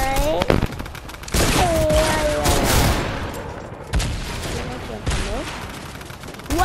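Shotgun gunfire in the video game Fortnite: loud, close blasts and rapid bursts of shots crowd together, with game effects and short gaps between volleys.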